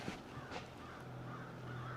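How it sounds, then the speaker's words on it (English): Crows caw a few times at a distance on a farm on a cold winter morning, faint calls over a steady background hiss. "So did the crows, obviously."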